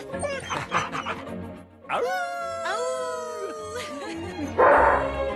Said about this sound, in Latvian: Cik mīlīgs suns?